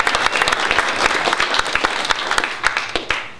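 Audience applause fills the room, dense steady clapping from a crowd that holds strong throughout and tapers slightly at the end.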